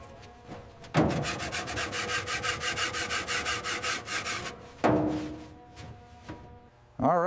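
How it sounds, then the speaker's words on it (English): A small brush scrubs the chrome grill bars of a 1937 Chrysler Airflow coupe with fast, rhythmic close strokes in a steady run, then a pause and a few more scrubs. "working each grill bar with a small brush, lifting the black residue to expose the aged chrome"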